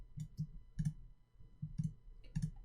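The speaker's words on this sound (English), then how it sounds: "I'm holding shift and clicking all of these." A computer mouse clicks repeatedly while objects are selected with shift held down, about a dozen close, crisp clicks in quick irregular pairs against near silence.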